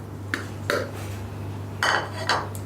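A spoon clinks against a bowl while bakwan fritter batter is mixed with garlic, salt, ground coriander, pepper and stock powder, giving four separate metallic knocks over a steady low hum.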